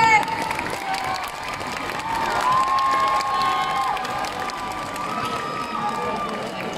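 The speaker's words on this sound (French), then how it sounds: "Veuillez les applaudir s'il vous plaît" Crowd noise with cheering and scattered clapping from an audience at a Hmong New Year dance show in Lyon, a steady wash of voices with some shouts and whistles running throughout.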